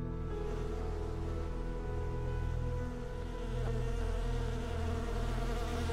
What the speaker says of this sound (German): Ach, hier sind Bienen.